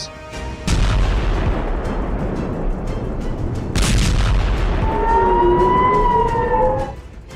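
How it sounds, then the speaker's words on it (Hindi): Air raid sirens in Israel during a night of rocket fire wail, rising and falling with a steady tone over heavy rumbling booms and loud noisy background, continuing for several seconds. "इजराइल में पूरी रात सायरन बजे।"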